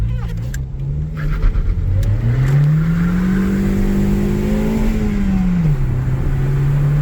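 An old abandoned beater car, a light little vehicle, revs its engine hard, the pitch climbing steadily then dropping back, loud and close throughout.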